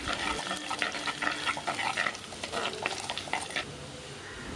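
Garlic and ginger sautéing in a pan over medium flame for a Kottayam-style Kerala fish curry, a continuous close sizzle broken by scraping and stirring clatter, with no speech.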